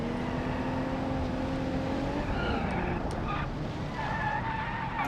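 A race car in BeamNG.Drive on the Nürburgring, overheating and sliding as its rear loses grip in a corner: a steady, loud engine drone with thin tire-squeal tones rising over it throughout.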